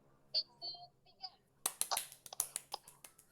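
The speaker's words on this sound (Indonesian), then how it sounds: "Tepuk 3, tepuknya 3 kali." Hand claps in a classroom clapping game: after brief speech, a run of sharp, close claps follows in an uneven series, several distinct slaps rather than a single group of three.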